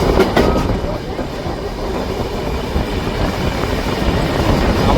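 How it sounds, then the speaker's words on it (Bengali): The Shantiniketan Express runs on a curved stretch of track, its carriages giving a loud, steady rolling rumble with faint clickety-clack from the wheels. "আমাদের ট্রেনের এখন একটা বিউটিফুল কার্ভ আছে।"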